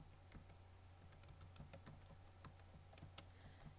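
Close typing on a computer keyboard, with a quick, irregular patter of light key clicks over a quiet background hum.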